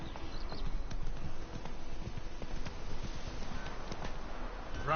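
Roach the horse runs in The Witcher 3 during miserable weather, rapid steady hoofbeats clattering throughout at moderate, slightly muffled volume with no talking.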